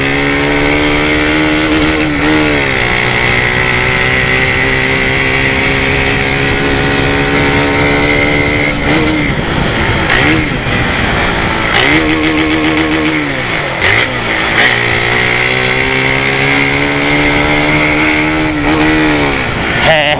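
A motorcycle fitted with a Polimet exhaust revs and rides close by, a loud, continuous engine drone that rises and dips repeatedly with throttle changes and gear shifts over twenty seconds.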